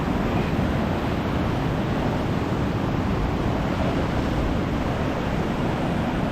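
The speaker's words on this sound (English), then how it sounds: "Big swell, monster swell." Heavy ocean swell surging and breaking on coastal rocks, a continuous loud roar of churning surf with wind buffeting the microphone, no voices.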